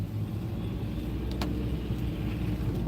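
A car drives along Main Street toward a mill building, giving a steady low road rumble and tyre noise heard from inside, with a brief faint click partway through and no talking.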